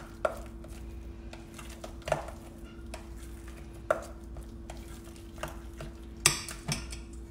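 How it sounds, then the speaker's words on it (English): Shredded cheeses, oregano and rosemary are stirred into a beef ricotta casserole, with soft wet scraping and periodic sharp clicks of a utensil against the dish, close and fairly quiet. "So I'm just stirring this all around"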